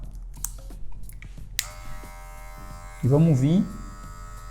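An A1 hair clipper fitted with a number 1 guard comb and adjusted lever switches on partway through and hums steadily while cutting hair during a fade haircut, close up, with light clicks before it and a short spoken phrase over the buzz.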